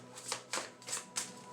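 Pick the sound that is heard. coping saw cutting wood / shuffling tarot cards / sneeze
shuffling tarot cards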